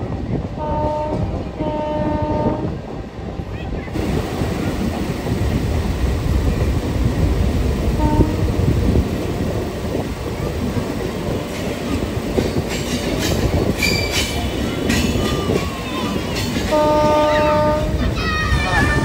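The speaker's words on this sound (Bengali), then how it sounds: "সেই রেলপথে প্রথমবারের জন্য আজকে লোকাল ট্রেন চলছে" A local train runs along the newly opened Krishnanagar–Amghata railway line on its inaugural run, its steady rumble and rolling wagons filling the scene with horn-like tonal blasts at the start and end.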